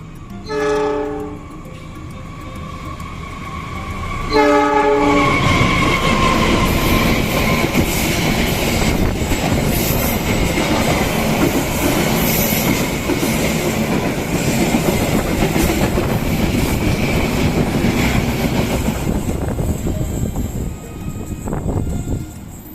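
A train horn sounds twice, then the Brawijaya passenger train rushes past a moving train in Indonesia with a continuous roar and rattling wheels for a long stretch before easing slightly.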